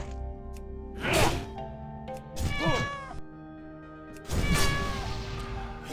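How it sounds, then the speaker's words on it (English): A cat's meow stands in for the Wildstrike ability sound in World of Warcraft, three drawn-out meows, loud and close, spaced apart over a low game hum. "you should have a cat sound for your Wildstrike."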